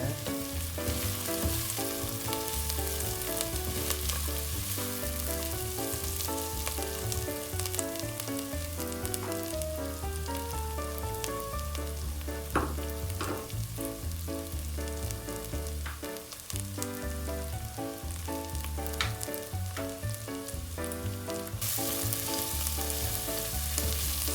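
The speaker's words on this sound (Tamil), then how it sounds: "அதனுள் வெட்டி வைத்த உள்ளியை போட்டு கிளறணும்." Chopped garlic fries in a pan for a Tamil-style crab curry, giving a steady, loud sizzle with stirring scrapes throughout, over continuous background music.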